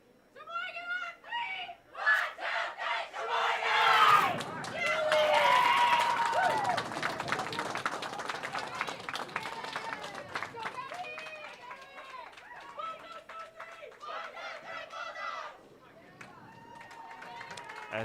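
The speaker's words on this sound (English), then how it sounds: "Emil, when the teams get in the huddles, they do their cheers, the crowd goes nuts" Bowling teams chant their huddle cheers at a high school state bowling championship, loud overlapping shouted voices that swell into a sustained roar of crowd cheering and clapping before tapering to scattered calls.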